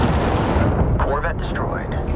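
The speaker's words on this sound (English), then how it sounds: "Corvette destroyed." A Corvette-class ship blowing up in a Homeworld 3 space battle, a loud, dense rumbling explosion that fades over about two seconds as whooshing effects sweep through behind it.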